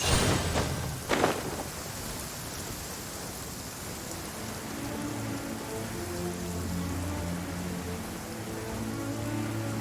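Steady rain falls in Genshin Impact, a dense even hiss that carries through the whole stretch, with a couple of brief louder splashes near the start and a faint low tonal hum underneath.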